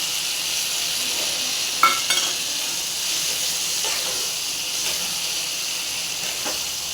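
Poppy seed paste goes into a hot frying pan of ridge gourd, potato and green chilies, giving a steady, fairly loud hiss and sizzle with a few light utensil clicks near the start.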